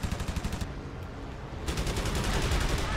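Rapid aircraft cannon fire in the video game Wings of Prey, attacking bombers, rattles out in a quick burst, pauses briefly, then resumes in a sustained, fast volley.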